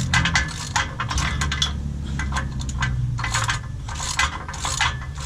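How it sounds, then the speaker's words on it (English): An adjustment bolt is worked loose with a homemade key welded from a C-clamp, producing close, repeated metallic clinks and scraping rattles in irregular bursts over a low background hum. "That's what we're doing right now, taking off the adjustment bolt."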